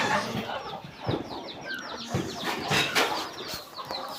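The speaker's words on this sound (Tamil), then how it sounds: "நாட்டு சேவல்" Country rooster and hens on a farm, clucking and chattering in a steady, moderately close stream over soft outdoor background noise, with no crowing standing out.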